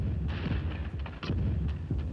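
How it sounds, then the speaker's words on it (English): The French battleship L'Achille explodes at the Battle of Trafalgar: a deep, continuous rumbling blast with rolling booms and sharper cracking bursts, loud and sustained. "the end of the battle was marked with a shattering explosion as the French battleship L'Achille blew up"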